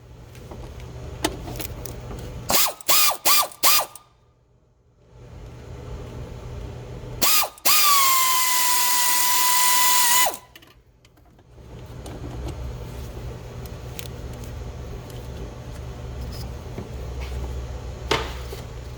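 A ratchet working on Jeep Compass throttle body screws, with a quick run of sharp clicks, then a loud sustained whirring burst, over steady background hum in a garage-like space.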